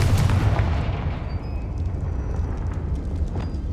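A Confringo fire spell detonates in Hogwarts Legacy, a loud booming blast that opens sharply and then rolls off into a dense, crackling rumble that fades over a few seconds.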